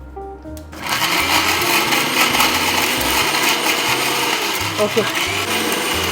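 A faulty kitchen mixer grinder starts up with a harsh, rattling whir and runs steadily loud, rough and grinding, with one short spoken word near the start.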